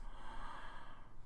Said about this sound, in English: Pardon the yawning.